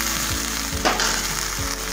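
Broccoli fries in butter in a very hot pan with a dense, constant sizzle and a few soft spatula knocks, plus one brief louder burst of hissing partway through.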